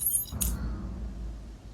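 Keys jangle briefly in a video game, a short bright metallic rattle near the start, then a quieter settling clink against low background hum.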